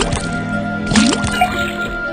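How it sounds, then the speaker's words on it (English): Liquid dripping from a tapped faucet in the detective puzzle game Detective Grimoire, a short watery squish and gurgling drip over a quiet background hum, with one brief bubbly splash near the middle. "then tap the faucet."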